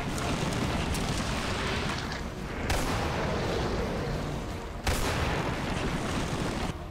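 Gunfire and weapon blasts from the Resident Evil 4 video game during a boss battle against Salazar, with loud, dense booming shots and sharp bursts running throughout, punctuated by a few abrupt heavier impacts.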